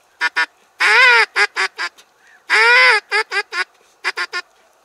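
A duck call lure blows loud nasal quacks up close during spring drake hunting on the Oka River: short rapid bursts alternating with two long drawn-out calls, imitating ducks.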